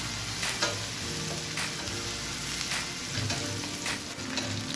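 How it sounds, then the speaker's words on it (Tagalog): Onion and garlic sautéing in a pan until golden for beef bulgogi, a continuous close sizzle with occasional stirring scrapes, no speech. "hanggang mag-golden brown or lumabas ang aroma ng ating onion and garlic"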